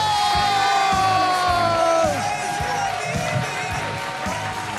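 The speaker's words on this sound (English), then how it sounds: "Give Anthony a big round of applause!" A crowd cheers and whoops loudly, voices overlapping in a sustained roar of excitement that eases slightly toward the end.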